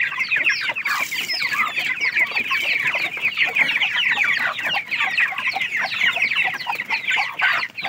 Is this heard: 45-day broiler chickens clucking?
yes